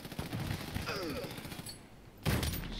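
Bursts of gunfire in the video game Army of Two: The Devil's Cartel, a run of rapid shots followed by a louder burst near the end, with game effects in the background.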